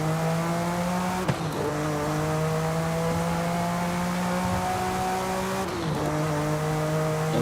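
A stock Hot Wheels car in Forza Horizon 5 accelerating hard, a loud steady engine drone climbing in pitch through the gears, with two sharp breaks where it shifts up.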